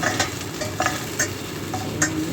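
Eggplant frying in a pan while being stirred, with a steady oily sizzle and sharp scraping and clinking strokes of the utensil every half second or so, close and fairly loud.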